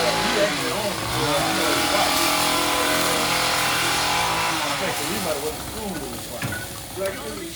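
Filipino street food sizzles on a hot grill while being basted and flipped, a loud steady frying hiss with scraping and clatter, and a person talking over it.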